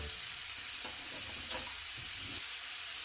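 Seasoned duck meat stir-fried in a pan, a continuous dense sizzle and hiss with faint scraping stirs, close and even in level, no one talking.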